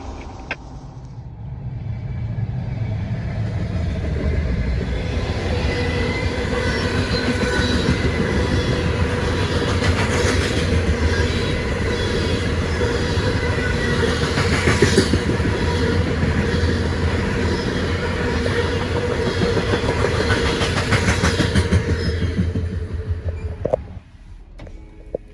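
A CSX combo freight train rolls steadily past at Pleasant Hill, a loud continuous rumble with clattering wheels and metallic squeal that holds for the full length before cutting off near the end.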